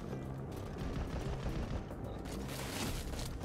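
Rapid bursts of video game gunfire from Metal Gear Solid V crackle almost continuously, with several heavier shots around the middle and end. A voice can be heard faintly under the shooting.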